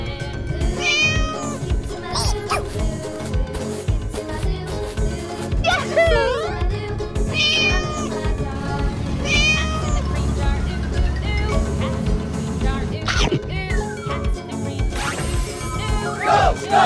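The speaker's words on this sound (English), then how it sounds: "Cat." A cat meows several times in rising and falling calls over a loud, busy music bed with other scattered sounds.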